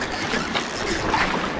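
A fishing reel's drag clicks in a steady, fast ratcheting buzz as a strong fish on an island shore pulls line out, loud and continuous without pause, with no voices over it.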